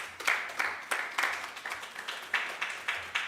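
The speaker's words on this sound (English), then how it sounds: "Please clap for us." Light, scattered clapping from an audience at a business expo comes in several short bursts, fairly faint and thin rather than a full ovation.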